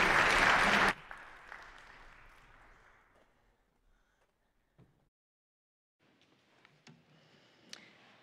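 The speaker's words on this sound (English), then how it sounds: "So let's give them a big round of applause." A church congregation applauds new members at a Sunday service, a loud burst of clapping that stops abruptly after about a second, followed by a quiet room with scattered faint clicks and shuffling noises.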